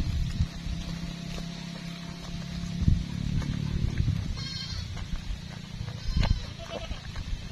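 Goat bleats on a farm, a couple of short calls rising over steady background noise and someone talking in Filipino, with animal movement nearby.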